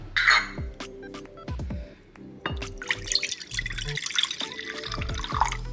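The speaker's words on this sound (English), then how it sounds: "So I poured enough pickle juice in to cover the bottom." Pickle juice poured into a dish for vegan copycat chicken nuggets, a close trickling liquid with drips and small splashes, plus light clinks of handling, and no talking.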